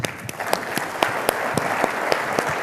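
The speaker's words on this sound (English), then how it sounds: "Let's give him a round of applause" A conference audience applauds after a speaker is introduced, dense steady clapping from many hands throughout, fairly loud and close, with no clear talk.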